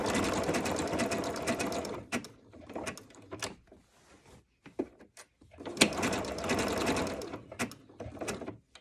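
Home sewing machine running a blanket stitch for machine appliqué on fabric, whirring in two long close bursts with short stops and small clicks between them.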